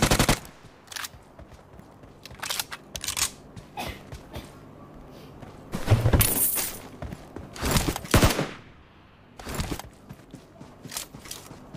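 Gunfire celebrating the New Year: sharp cracks and rapid bursts of shots, some loud and close, others fainter, spaced irregularly with quiet gaps, and a heavier cluster of shots around the middle.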